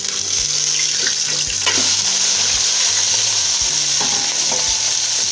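Minced meat (keema) frying in a pan with garlic and red chili gives a loud, steady sizzle with soft stirring scrapes throughout, close by and without talk.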